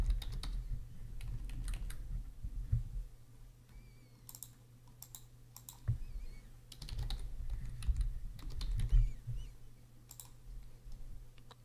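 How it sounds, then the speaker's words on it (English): Fingers type on a computer keyboard in a quiet room, giving close, light key clicks in short bursts separated by pauses, over a low steady hum. "So here I will type my identifier."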